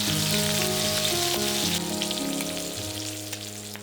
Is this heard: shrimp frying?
yes